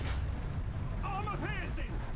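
A tank cannon in War Thunder fires an armor-piercing shell, a heavy boom over constant low rumble, with a warbling in-game voice callout partway through.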